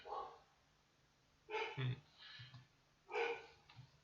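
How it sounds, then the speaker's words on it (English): A big dog barks near a house watched by security cameras, giving a few separate deep barks in two short bursts with quiet gaps between them, fairly faint and at a distance, with no voices. "when the big dog barks like that, you know there's a person."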